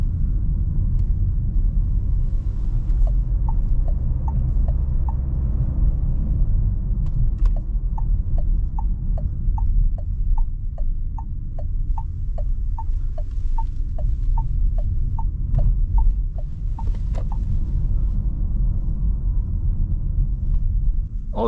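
Cabin of a 2025 Renault Captur facelift driving at night: a steady low road rumble and hum fill the interior, with a run of regular soft clicks in the middle. There is no talking.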